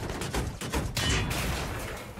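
Video game gunfire in a LAV vehicle battle on the Noshahr Canals map, a dense burst of shots and booming blasts that merges into a sustained rumbling roar, loud and close.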